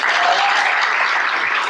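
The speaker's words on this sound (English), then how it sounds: "Can you give a giant round of applause?" An audience at a luxury real estate masterclass in Orlando breaks into a loud, dense round of applause that holds steady from start to finish without talk.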